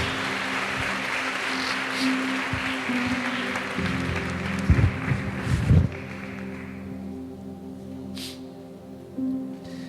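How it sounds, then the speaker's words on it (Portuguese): A church congregation applauds during a worship service, a broad wash of clapping lasting about six seconds before fading, with low steady tones beneath and a quieter stretch afterward. "Aplauda o Senhor porque Ele é digno."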